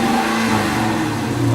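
A car engine revs loudly nearby in a short sustained roar, heard alone without talking.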